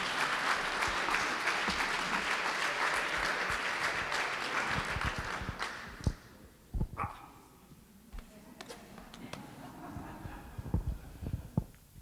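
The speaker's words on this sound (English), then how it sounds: "let's have a big round of applause and welcome Jim Alexandre" An audience gathered for a lecture on Louis Comfort Tiffany gives a speaker a welcoming round of applause, dense and sustained for about six seconds, then thinning into a few scattered, isolated claps before fading.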